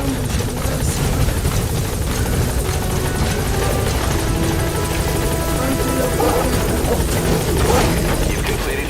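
A support helicopter arrives in the video game Metal Gear Solid V, its loud, steady rotor thrum and engine buzz filling the whole stretch without a break.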